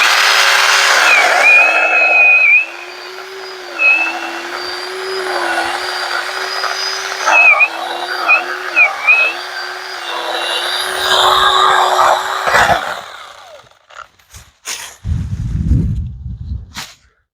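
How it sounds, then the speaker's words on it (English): A mini chainsaw runs loud at first, then its engine note drops and wavers as it bites into a tree branch, revving and dipping several times before cutting off into quiet rustling and thuds. "so use this chainsaw on this branch here"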